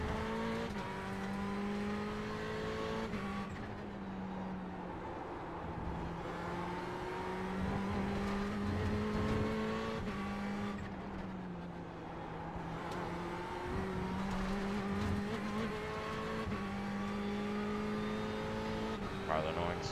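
Race cars run on a circuit with engine drone throughout and several cars passing and revving, loud and continuous, while a commentator talks over it.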